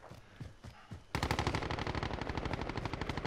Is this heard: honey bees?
no